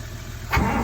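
A 1938 Dodge engine turning over at full throttle, a low rumbling drone that surges louder partway through as the old motor strains without catching.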